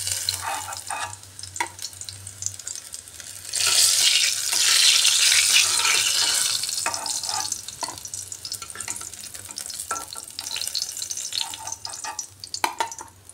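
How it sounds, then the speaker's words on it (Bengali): Karkul vegetable pieces fry crisp in hot oil. A loud hissing sizzle surges for a few seconds, then settles into quieter crackling with intermittent scraping stirs. "এবার বাকিগুলোও এইভাবে ভেজে নিচ্ছি।"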